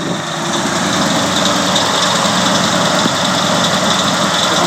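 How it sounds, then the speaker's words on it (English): A 1949 Ford F-5 truck with its original low-mileage motor idles smoothly and steadily up close, a constant even hum with a faint pulley noise and no talking. "that's why that engine purrs so nicely."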